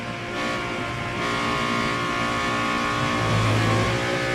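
A BMW M1 ProCar race car's engine roars steadily at close range, pitch shifting as it runs through the gears, with the sound swelling louder toward the end.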